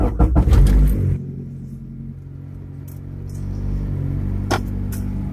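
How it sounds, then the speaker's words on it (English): A car engine idles steadily at about 1500 rpm with a check engine light on, a low continuous rumble after a brief burst of clatter at the start. "You can hear the idling."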